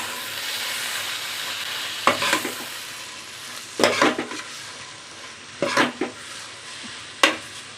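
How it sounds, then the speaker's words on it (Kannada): Chopped greens and grated coconut stirred in a hot pan for a village-style greens dish, in four distinct scraping bursts over a steady, faint sizzle, close and with no voices. "ತೆಂಗಿನಕಾಯಿ ತುರಿ ಹಾಕಿ ಸೊಪ್ಪು ಜೊತೆ ಎಲ್ಲ ಈ ಥರ ನೀಟಾಗಿ ಮಿಕ್ಸ್ ಮಾಡ್ಕೊಳ್ಳೋಣ"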